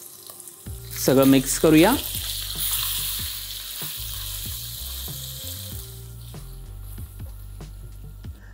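Finely chopped green chillies and spices sizzle in hot oil for a tempering, a steady loud frying hiss with scattered stirring clicks, and a voice speaks briefly near the start.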